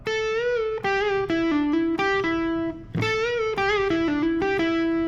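A sustained, distorted lead guitar plays a melodic phrase of bending, held notes with brief gaps, loud and close, no voices.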